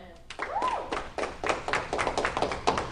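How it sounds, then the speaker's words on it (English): Several people clap in a brisk, uneven burst of applause, close by and fairly light. "Clap for them."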